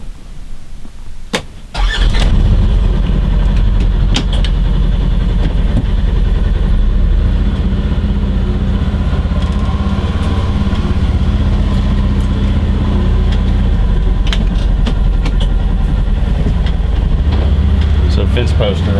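A pickup truck engine cranks and catches after a couple of seconds, then runs loud and steady nearby as the truck drives across a pasture to hook up a trailer for fence posts.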